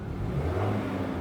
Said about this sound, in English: every car will have a roar sound